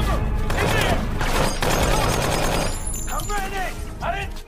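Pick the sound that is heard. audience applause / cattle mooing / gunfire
gunfire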